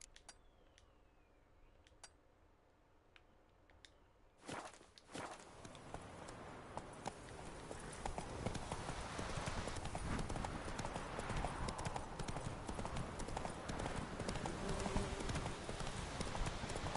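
Roach the horse in The Witcher 3 breaking into a gallop, with quick, continuous hoofbeats close by after a few quieter seconds and a sudden onset.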